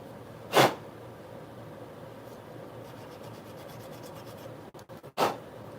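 A grip tech knife handle being hand-sanded gives two short, loud rasping strokes, one near the start and one near the end, with a low steady hum and faint scraping between them.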